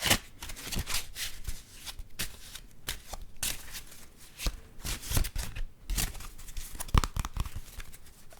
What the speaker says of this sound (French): Le paquet est mélangé.